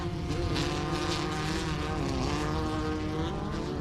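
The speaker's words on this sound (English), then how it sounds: "RPM sounds identical to every car as they go by." Short course off-road race cars powered by Volkswagen engines pass one after another, a steady loud engine drone holding a near-constant pitch throughout.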